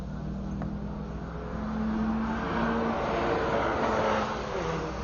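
A Nissan S13 race car runs on track at Buttonwillow, its engine drone steady and somewhat distant, swelling slightly midway before easing off again, with no talk.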